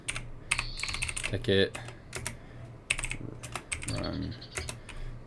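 Rapid, uneven clicking of fingers typing on a computer keyboard during a Tekkit game session, close and fairly loud, with someone talking over the keystrokes.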